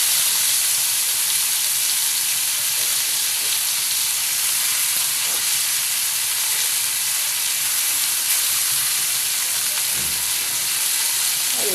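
Chopped tomato and onion fry in hot oil for a crab curry, a constant dense sizzle and hiss that stays loud and even throughout, close by with no voices.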